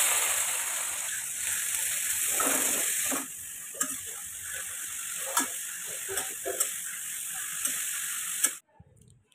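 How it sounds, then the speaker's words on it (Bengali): Sliced bitter gourd frying in hot oil: a steady bright sizzle with occasional stirring clatters and pops, close and loud, until the sound cuts off near the end. "এই যে উচ্ছেটা আমি ভাজবো।"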